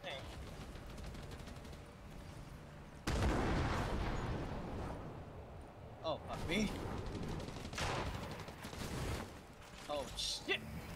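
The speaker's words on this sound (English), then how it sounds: "Oh, and they're trying to shoot me, too." Gunfire in the video game Fortnite, bursts of shots and heavy blasts with a loud surge partway through, alongside talking players.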